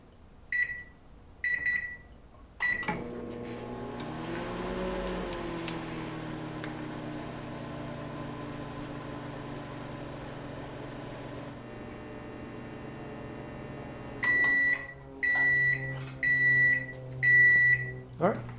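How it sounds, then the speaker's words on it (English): Keypad beeps, then a microwave oven with a heating fault hums steadily for several seconds while heating water, before a series of loud completion beeps rings out. "Let's go ahead and start the microwave up in about 2 minutes"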